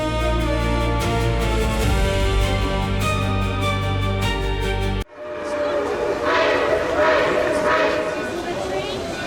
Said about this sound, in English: a little steam train performs a trick that looks like it belongs on a toy set